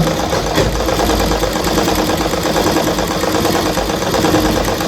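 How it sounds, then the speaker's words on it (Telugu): A tailoring sewing machine stitches cloth slowly, giving a continuous close mechanical whirr and rapid needle clatter that runs evenly for several seconds. "స్లోగా వెళ్ళగా కొట్టి స్లోగా ఇట్లా కుట్టు వేసుకోవడం"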